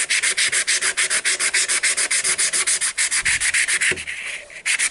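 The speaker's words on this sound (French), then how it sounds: "on ponce sur toute la longueur. Pour que vraiment ça soit bien lisse." Rhythmic back-and-forth sanding strokes on a wooden knife handle, worked along the grain in a steady run of close, loud rubs that falter briefly near the end.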